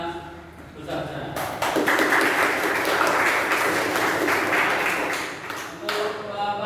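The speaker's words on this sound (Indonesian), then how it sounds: "Mari kita beri aplaus yang besar-besaran" A classroom bursts into loud, sustained applause lasting several seconds, many hands clapping together, with a voice speaking just before the clapping begins.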